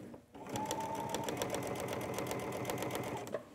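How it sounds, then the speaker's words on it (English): A sewing machine stitches ribbon onto dress fabric, its motor running in a steady fast whirring rhythm of needle strokes for about three seconds after a short quiet start. "So I'm actually holding the ribbon to the fabric and stitch."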